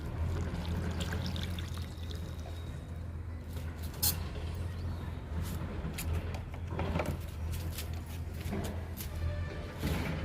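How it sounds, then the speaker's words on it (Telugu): Liquid poured from a container onto a potted adenium plant in a home garden, a steady soft splashing trickle running continuously at close range, with faint background noise and no speech. "ఎడేనియంకి ఇస్తున్నానండి లిక్విడ్"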